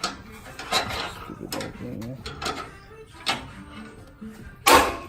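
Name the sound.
stuck bolt popping loose on truck bumper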